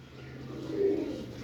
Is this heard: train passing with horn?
no